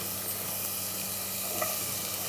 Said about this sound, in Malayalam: അതിനുശേഷം നമ്മളിവിടെ അരിഞ്ഞു വെച്ചിരിക്കുന്ന എല്ലാ വെജിറ്റബിളും ഇതിലേക്ക് ഇട്ടിട്ട് ഒന്ന് വഴച്ചെടുക്കണം